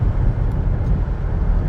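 Road traffic gives a dense, steady low rumble of passing vehicles. It carries on evenly for a couple of seconds and then cuts off abruptly.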